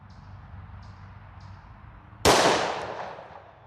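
A single sharp, loud gunshot from an S&W M&P .40 pistol firing Speer Gold Dot 165gr JHP rounds, cracking out suddenly after a quiet stretch of faint ticking, then ringing and decaying over the following second.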